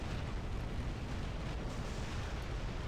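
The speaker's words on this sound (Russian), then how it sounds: "Сейчас взорвется" A massive robot explosion in the mech combat game War Robots, a dense, sustained roaring rumble heavy in the low end that holds steady throughout with no clear breaks.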